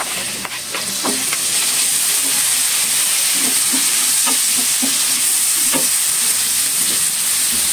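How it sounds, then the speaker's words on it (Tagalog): Garlic sautéing in butter for chopsuey, a loud steady sizzle and hiss with occasional stirring scrapes of a utensil in the pan throughout. "Igisa natin siya sa butter"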